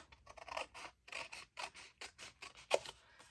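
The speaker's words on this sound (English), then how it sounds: "I'm going to use my scissors." A series of crisp snips, several short cuts in a steady run with small pauses, close by and fairly quiet, like scissors slicing through paper.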